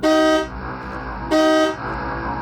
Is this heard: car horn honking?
yes